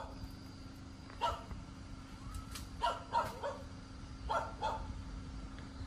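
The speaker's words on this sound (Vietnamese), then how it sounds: "chó nhà hàng xóm nó sủa" A neighbour's dog barks from a distance in short yapping bursts, some doubled, over a steady hum and low background noise, faint and without talk.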